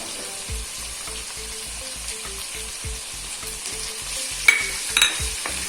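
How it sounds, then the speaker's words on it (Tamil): Crushed garlic and small onions sautéing in hot oil for kara kuzhambu, a soft continuous sizzle with faint crackles and a few brief stirring clinks near the end, close and without speech. "பூண்டு உள்ளே போட்டோன்னே எண்ணெயில் வதங்கும் போதே நல்ல ஒரு மனம் அடிக்கும்"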